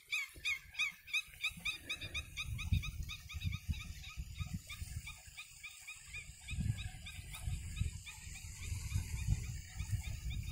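Dogs out in grassy ground near the sea whimper and whine in repeated high, thin bursts. Faint snuffling and rustling movement runs underneath, and there is no talking.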